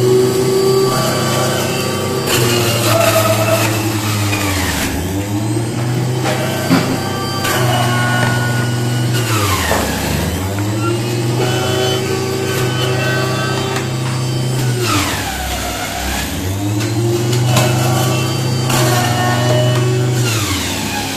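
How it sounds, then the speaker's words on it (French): Industrial juice extractor crushing pineapples and extracting juice, a loud continuous motor whine that repeatedly dips and rises in pitch as fruit is fed in. "à l'aide de l'extracteur, ici, qui va permettre en même temps de broyer et d'extraire le pur des ananas"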